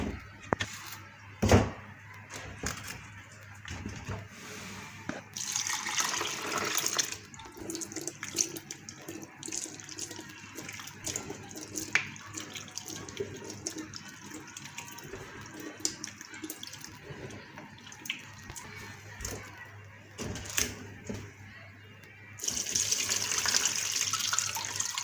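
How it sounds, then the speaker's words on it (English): Beans being washed in water in a bowl, with running tap water, sloshing and splashing that rise and fall over about twenty-five seconds, close by, with occasional knocks and no talking. "So I've washed the beans."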